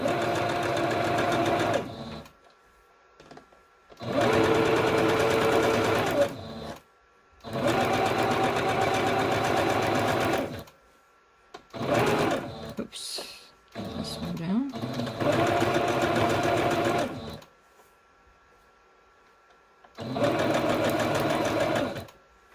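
A sewing machine runs in repeated bursts of a few seconds each, stitching a straight line on craft collage snippet strips, loud and close, with pauses between runs and faint handling sounds.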